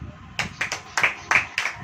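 Sharp hand claps from an audience at a Hindi church sermon, five or six uneven, closely spaced claps ringing clearly in a room, with a faint murmur of voices beneath.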